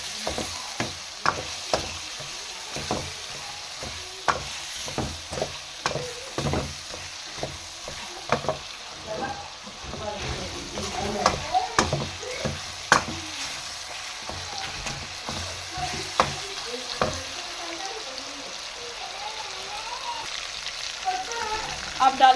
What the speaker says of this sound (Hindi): लहसुन अदरक का पेस्ट डाल दिया।